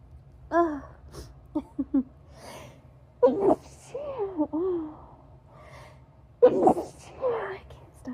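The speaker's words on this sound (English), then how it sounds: "I can't stop sneezing." A person sneezes repeatedly, several sharp, close sneezes with gasping in-breaths between them, interspersed with sighs and moans at close range.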